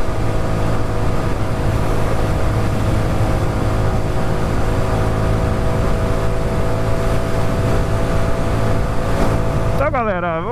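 A Honda Biz 125 motorcycle engine, still being broken in and not at full throttle, hums steadily at moderate speed throughout, loud and close, with a brief rising whine at the very end.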